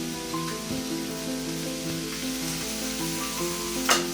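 Kielbasa frying in butter in a pan gives a steady close sizzle throughout, with a few light clinks of utensils and a brief louder hiss near the end.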